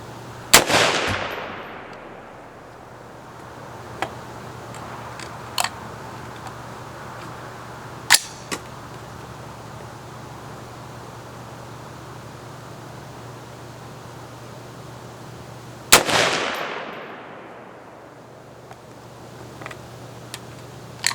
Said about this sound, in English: I'm going to do a single feed 4-shot group.